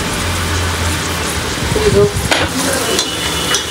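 Onions fry steadily in hot oil in a large pot for a big batch of biryani, a loud continuous sizzle with occasional stirring scrapes and clatter close by.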